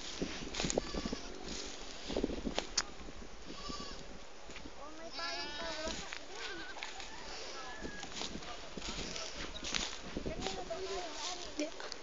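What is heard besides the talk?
goats bleating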